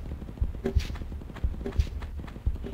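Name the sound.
horse in the video game Tomb Raider 1 Remastered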